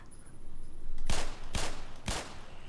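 Three gunshots in Black Mesa, evenly spaced about half a second apart, each a sharp, loud crack over a low hum of game ambience.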